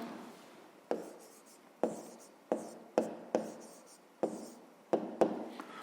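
Chalk or pen tapping and scratching out an equation by hand for a fifth-grade math word problem, with about eight sharp, evenly spaced strokes close up against a quiet room and no talking.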